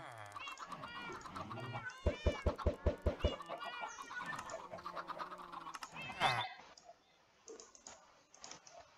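Many chickens in Minecraft cluck and squawk in a dense overlapping chorus, with a quick run of pulsed clucks, fading to sparse calls while a voice talks over it.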